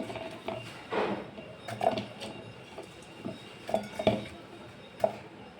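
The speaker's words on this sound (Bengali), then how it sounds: "তরমুজগুলো এখন এই জারের মধ্যে দিয়ে দেবো।" Chunks of watermelon dropped into a blender jar for a sweet drink, with several soft wet thuds and light clinks against the jar at irregular intervals, quiet and close, with no talking.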